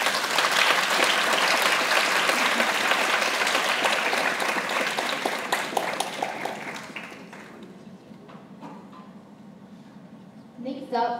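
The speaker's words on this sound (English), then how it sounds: "Let's give our winners another round of applause." Audience applause for award winners at a closing ceremony, loud sustained clapping from a crowd that gradually tapers off, with a voice speaking over the final moments.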